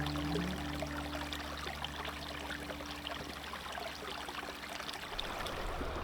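Steady flowing water of Fish Creek in Alberta, near where it joins the Bow River in Calgary, a continuous close rush and trickle with no voices and a low hum beneath.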